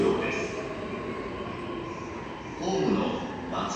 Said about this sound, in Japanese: まもなく1番線に快速水戸行きが参ります。